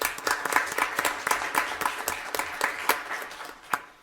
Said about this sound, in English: Let's give Brent a round of applause.